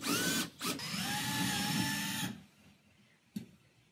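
A power drill drives screws into a folding workbench wall bracket with a steady whining buzz that runs for about two seconds and then stops, followed by a short click.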